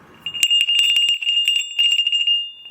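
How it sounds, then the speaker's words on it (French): A small metal sleigh bell, a grelot with a fine patina, jingles in a steady run of bright, close tinkling shakes lasting a couple of seconds, with no voices. "Un grelot."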